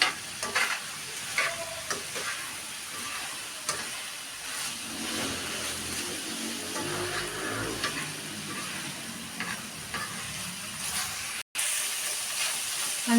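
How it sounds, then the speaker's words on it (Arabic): Onions sautéing in a pan alongside chicken for shawarma, a steady close frying sizzle and hiss with occasional stirring knocks and scrapes, no talk. "هنشوح معاها البصل كده"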